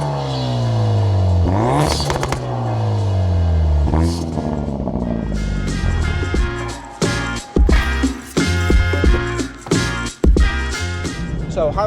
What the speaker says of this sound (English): let's take a listen to what extra sound the GPF delete and the flex section offer to the Cobra Sport system